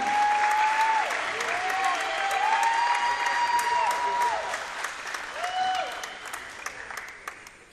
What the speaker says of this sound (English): Standing ovation for Victory Rock